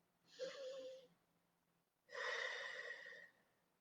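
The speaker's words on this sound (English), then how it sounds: "Taking some deep breaths" Two slow, deep breaths during a guided meditation session: a long airy inhale followed by a fuller exhale after a short pause, close and quiet, with no talking.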